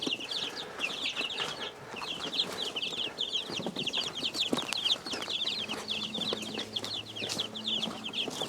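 Chicks and chickens cluck and chirp steadily in a dense, close chorus while being carried out of an old coop being converted into a brooder, with light rustling and a faint low hum beneath.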